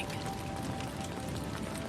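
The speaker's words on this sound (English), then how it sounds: "Through the kitchen window, you can see the rain still falling." Steady rain falls outside an old inn's kitchen window in the evening, a soft, continuous patter of drops and splashes at moderate distance, with no voices.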